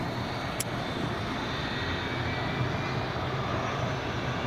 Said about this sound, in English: Then we've got a Logan Air ATR taxiing out as well.